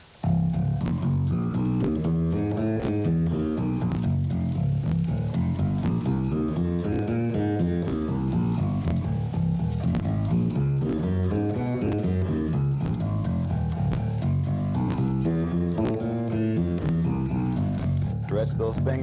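An electric bass guitar plays a finger exercise, a steady stream of deep, evenly spaced notes climbing and falling in a repeating pattern, alone and at a consistent volume throughout.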